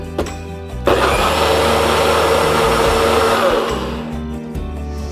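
A blender whirs loud and steady for several seconds, blending a protein drink dessert with chocolate and red berries, then winds down toward the end.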